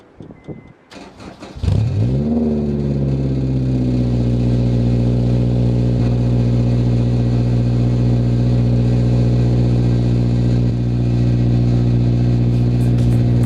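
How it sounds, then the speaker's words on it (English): A Honda S2000 sports car cold start with a new aftermarket exhaust: the engine cranks and fires up with a sharp roar, then settles into a loud, steady, rumbling idle through a throaty exhaust. "So here's a cold start."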